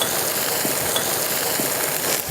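Artichokes sizzle and fry in olive oil in a pan, a steady broadband crackle that holds for about two seconds with a few soft stirring clicks and no talking.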